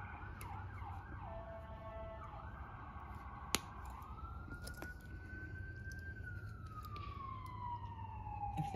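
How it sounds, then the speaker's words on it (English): Emergency vehicle sirens wail and yelp from a distance, passing by outdoors with the pitch sliding down as they go, over a low background rumble and a single sharp click. "Here come the sirens."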